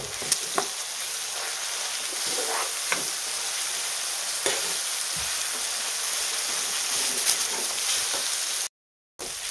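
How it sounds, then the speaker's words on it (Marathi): Masala chili powder sizzles and fries in a pan for a village-style brinjal curry, a steady crackling hiss with occasional soft stirring clinks, close and loud, with a brief dropout near the end. "मी 1 चमचा मिक्स तिखट आहे, मसाला तिखट, तर मी तेच घालते. आणि छान परतून घेऊया."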